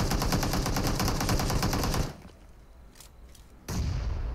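Rapid automatic gunfire from a mobile battle-royale shooter in a Conqueror-rank solo match, a dense burst of loud shots that cuts to near silence with faint distant pops, then the firing resumes.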